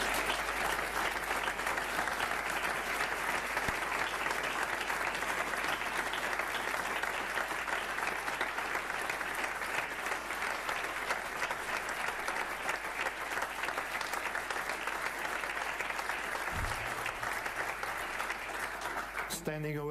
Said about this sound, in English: Standing ovation at MCC.